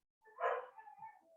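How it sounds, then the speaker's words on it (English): A small dog lets out one short, close bark followed by a softer trailing yip, alone against silence. "Sorry for my little dog."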